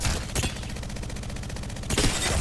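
Rapid automatic fire from a formerly energy-based gun in Apex Legends, a dense continuous stream of shots between heavier bursts at the start and end, loud and close with no talking.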